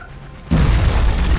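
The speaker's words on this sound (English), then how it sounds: "Grenade out." Grenade explosion in XCOM: Enemy Unknown: a sudden loud boom cuts in after half a second of quiet and rolls on as a dense, rumbling blast to the end.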